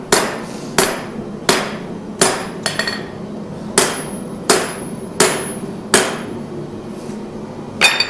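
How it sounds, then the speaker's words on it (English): A hammer strikes a large steel knife at a forge in steady, evenly spaced ringing blows, about ten of them, each loud and close with a short metallic decay. "Forging large knives today."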